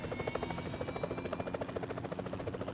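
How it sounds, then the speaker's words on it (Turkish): A helicopter in the PUBG Mobile video game gives off a steady rapid rotor chop, rhythmic pulsing thumps at moderate distance with a faint engine whine, heard alone without talk. "Bu arada helikopter buldum."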